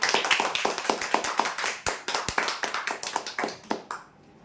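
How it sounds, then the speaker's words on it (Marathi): Applause for a prize winner at a draw, rhythmic clapping from a small group close by, quick regular claps that thin out and stop near the end, no voices over them. "जोरदार टाळ्या होत्या"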